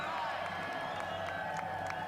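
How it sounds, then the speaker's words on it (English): Studio audience at a raucous live radio contest cheers and whoops for a tequila shot, a dense steady roar of crowd noise with scattered claps and shouts throughout. "Crowd chanting for the shot."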